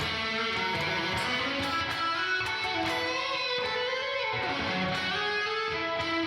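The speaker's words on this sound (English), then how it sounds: "And now I run it into this reverb" A drum machine pattern run through a 100% wet reverb, smeared into a thick, continuous wash, with hits blurring together at a steady, fairly loud level throughout.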